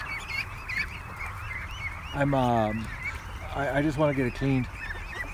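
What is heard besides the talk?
ducks in the barn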